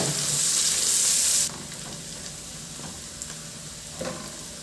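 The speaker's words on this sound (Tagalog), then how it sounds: "At igisa ko na rin yung bawang. Isunod ko na rin ilagay yung sibuyas" Garlic and onion sautéing in about two tablespoons of butter in a pan, heard as a loud, steady sizzle that drops sharply after a second and a half to a softer frying hiss with a faint clink near the end.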